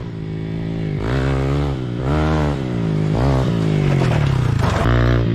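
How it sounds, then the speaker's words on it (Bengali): Motorcycle arriving at a bike competition at a riding academy, its engine droning loudly and steadily with rising and falling revs as it approaches and passes close by. "আজকের দিনে ফার্স্ট বাইক আসছে, কম্পিটিটর নাম্বার 6"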